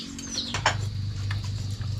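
A pigeon calls with low, rolling coos that repeat through the moment, close by, with a faint higher chirp and a soft rustle near the start.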